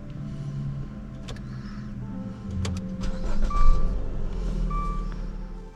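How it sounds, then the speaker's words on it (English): A 2013 Dodge car engine cranks and catches midway, then settles into a low idle, with a few short electronic chimes sounding near the end. "We're going to try to start the car."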